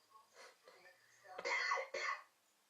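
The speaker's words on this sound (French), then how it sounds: "Vous me faites tousser" A couple of coughs, close and fairly loud, following some faint vocal sounds; two strong bursts about half a second apart.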